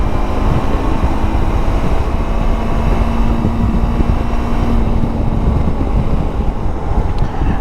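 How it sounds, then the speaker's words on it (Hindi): A Zongshen RX3S motorcycle pulls hard in sixth gear on the road in Lahore, its steady droning engine hum blended with heavy wind rush, loud and continuous throughout. "मतलब अब मैं 6th गियर में हूँ और यहाँ से ही थ्रॉटल दूंगा तो ये निकलती है फ़ौरन।"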